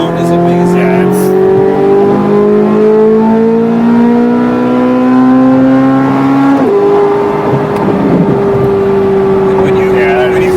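Chevrolet Corvette C8 Z06 engine revving hard from inside the car: a loud, continuous rising wail that climbs steadily, drops briefly at a shift, then holds high again.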